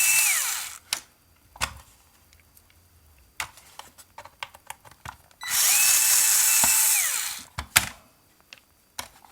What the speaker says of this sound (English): My only gripe on this electric screwdriver is the torque